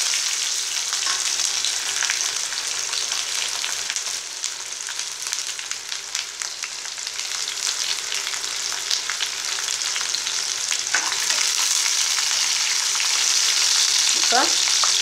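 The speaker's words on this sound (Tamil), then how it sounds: "கடுகு பொரியும் போது தெரிக்கும், கொஞ்சம் இடத்துல கொஞ்சம் கருவேப்பிலை போட்டேன்." Mustard seeds and curry leaves crackling in hot oil for vatha kuzhambu, a dense, loud, continuous sputter with sharp pops throughout, close up and with no talking.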